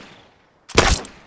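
A rifle fires in The Last of Us gameplay, one short sharp burst of gunfire with a quick rattling tail, standing alone after near silence.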